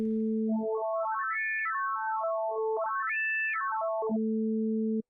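A clean, tone-like additive synthesizer patch sweeps up and down through quick stepped notes, bright and steady, playing alone for a few seconds.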